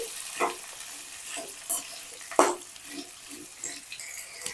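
Sliced onions and tomatoes are stirred and fried in oil for an onion curry, a quiet hiss punctuated by several distinct scraping and clattering stirs at irregular intervals, with no talking.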